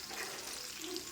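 Maruya, banana fritters made from very ripe bananas, fry in oil with a soft, steady sizzle, faint and continuous over a brief moment.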